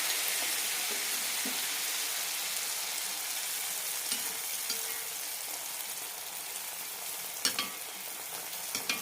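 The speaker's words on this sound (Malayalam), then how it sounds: "നല്ല ചൂടായ എണ്ണയിലേക്ക് തന്നെ ഒഴിക്കണം" Rice flour neyyappam batter fries in hot oil with a bright, steady sizzle, close and even, with a few sharp spits and clicks near the end and no voices.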